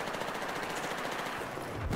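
An AK5C rifle in Battlefield 4 fires a steady rapid automatic stream of shots, continuous and fairly loud, with a heavier thump near the end.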